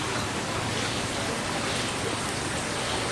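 Steady rain falls continuously, a dense, even hiss of drops on a surface that stays loud and unbroken throughout, with no voices.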